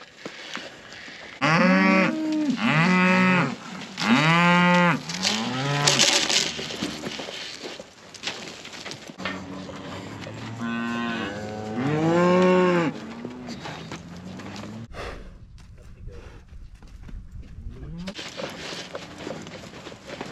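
Cull cows on a farm moo loudly and repeatedly nearby, several long drawn-out calls in a row, with quieter rustling and ambient farm noise between them.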